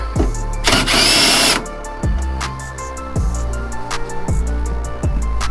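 A power tool spins out 10 mm bolts during a spoiler install on a Dodge Challenger Hellcat Redeye. One loud, close, whirring burst lasts about a second, followed by sparse metallic ticks and clicks.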